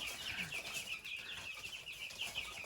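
Many chicks cheep continuously in a busy, high-pitched chorus of overlapping peeps, soft and nearby in a cage, with faint rustling.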